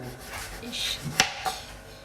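A saucepan is handled while making gratin dauphinois, with some rubbing and scraping, then two sharp metallic clanks close by in quick succession.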